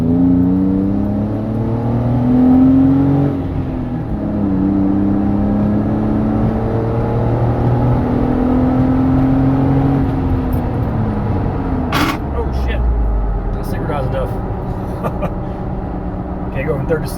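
A Jeep JK with a Magnaflow stainless cat-back exhaust pulls hard at wide open throttle, a loud deep drone climbing in pitch through the revs, dropping at a shift and then rising again, heard from inside the vehicle.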